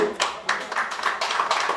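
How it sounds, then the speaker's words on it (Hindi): Audience at a film trailer launch event for Border 2 applauding, with a burst of close, uneven hand clapping from a small group, mixed with a voice. "जोरदार तालियां"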